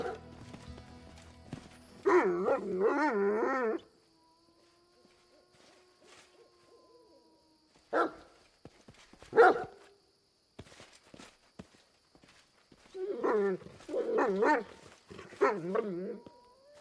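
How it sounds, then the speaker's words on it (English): Dog barks in the fantasy role-playing game Pathfinder: Kingmaker, several short bursts of harsh yelping calls in clusters, loud and close, separated by quieter stretches with faint ambient tones and a few thumps. "let's see what that dog wanted"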